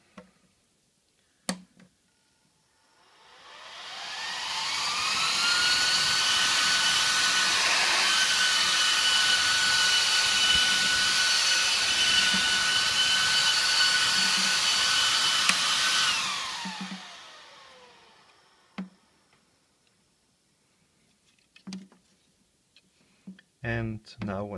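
A powerful 92x92mm HP server fan spins up with a rising whine, roars loudly and steadily for about twelve seconds, then winds down; a few clicks and handling sounds come before and after.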